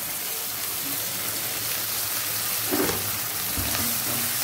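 Tomatoes sautéing in a pan for prawn gravy make a dense, steady frying sizzle like rain, close and fairly loud, with a brief stirring scrape partway through.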